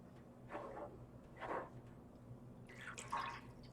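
Hands swish and drip in a basin of warm tap water for washing dyed fiber, with three soft, separate splashing bursts, quiet and close, and no talking.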